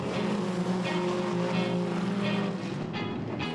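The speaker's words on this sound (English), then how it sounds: "Engines roar, dirt flies, and competition fills the air at Route 66 Motor Speedway in Amarillo, Texas." Race car engines roar steadily at Route 66 Motor Speedway, a dirt oval in Amarillo, Texas, during a Saturday night race, with a loud, continuous drone and sustained harmonic whine that eases slightly near the end.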